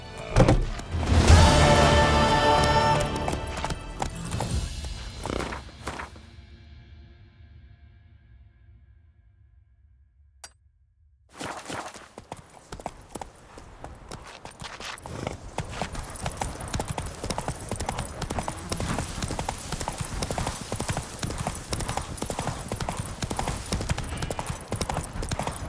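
Horse hooves clip-clopping in The Witcher 3, rhythmic hoof strikes that fade into near silence, then return as a steady trot with game ambience.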